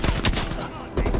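Rapid automatic gunfire in the shooter game Call of Duty: Cold War, dense loud close shots filling the whole brief moment with no pause.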